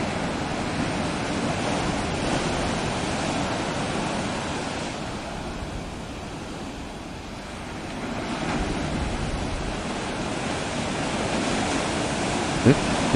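Pacific Ocean surf rolling in along a rocky reef coast near Cape Arago, a continuous broad wash of waves with slow swells in loudness and some wind buffeting the microphone.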